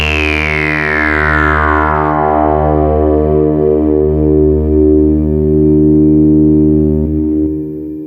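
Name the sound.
Behringer TD3-MO synth through delay, reverb and distortion pedals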